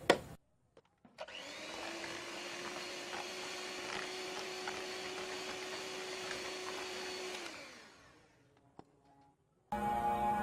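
An electric beater whirs steadily for about six seconds as it mixes sugar into batter for a Konkani sakroli recipe, a loud, even motor drone that starts abruptly and then winds down.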